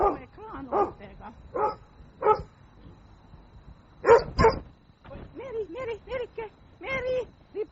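Several dogs barking in a run of sharp yaps and woofs, some close and loud, with short pauses between bursts and a few higher yips.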